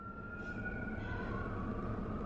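Ambulance siren sounding outside a car on the road in eastern Massachusetts, a steady wailing tone heard from inside the vehicle over constant road rumble, moderately loud throughout.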